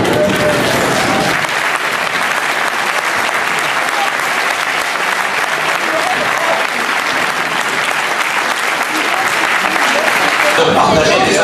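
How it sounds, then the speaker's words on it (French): A standing ovation for Guy and his team at an aéroclub gathering: a dense, sustained wash of crowd clapping that stays loud and steady for the whole stretch, easing slightly at the very end. "je vous propose de lui faire une standing ovation avec toute son équipe"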